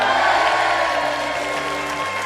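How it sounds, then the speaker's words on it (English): Applause and cheering sound effect: a dense burst of crowd clapping with whoops, full and loud from the start and easing slightly as it goes on. "Round of applause for them, folks."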